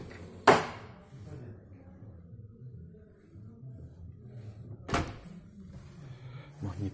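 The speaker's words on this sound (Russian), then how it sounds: "Магнитный замок." A door fitted with a magnetic lock shuts twice with sharp knocking clunks several seconds apart over a low room rumble, with a further softer thud at the end.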